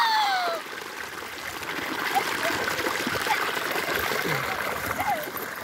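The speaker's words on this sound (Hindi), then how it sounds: "देखिए अभी आप लोग देख सकते हैं कि इधर कितना तेज से पानी बह रहा है।" Fast-flowing stream water rushes in a steady, broad wash that stays close and fairly loud throughout, with small splashes and trickles rising above the flow.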